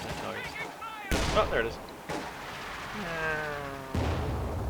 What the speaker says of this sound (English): that's the sound of a Ligue firing